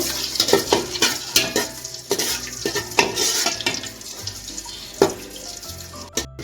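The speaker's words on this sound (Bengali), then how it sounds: "এখন আমি কিশমিশগুলো একটু ভেজে নেব।" Raisins fried in hot ghee and oil in a pan, sizzling steadily while a spoon stirs and scrapes with repeated sharp knocks against the metal, close and fairly loud with no talk.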